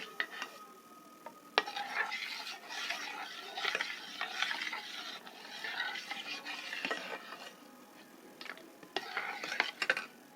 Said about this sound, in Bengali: এবার ভালো করে মিশিয়ে দিতে হবে